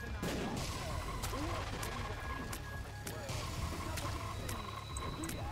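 Bombs explode in The Binding of Isaac: Repentance. Several short, sharp blasts hit at irregular moments over a dense, steady bed of game music and effects.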